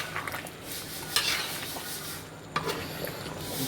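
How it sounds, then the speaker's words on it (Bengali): Fried potatoes are stirred into meat in a pot for biryani, bringing scraping, clattering spoon strokes against metal over a low sizzle, with a couple of sharper knocks. "আলুটি এখন আমরা মাংসতে দিলাম ভেজে নেওয়ার পর। একটু হালকা করে নাড়া দেবো"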